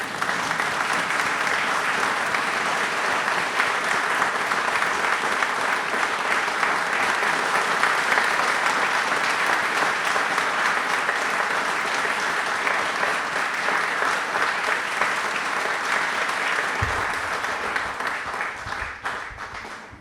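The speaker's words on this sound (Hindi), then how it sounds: "खड़े हो जाएं और तालियां एक बार जोरदार सबके लिए हो जाएं प्लीज।" A large standing audience gives sustained, thunderous applause in honour of the armed forces at a Republic Day quiz programme, a dense steady roar of clapping that fades near the end.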